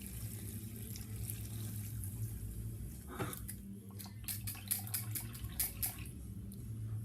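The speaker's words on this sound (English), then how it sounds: "Cold water this is going in now." Cold tap water runs into a jar with a continuous low gurgle and splash, faint and close, with a few brief clinks and drips near the end.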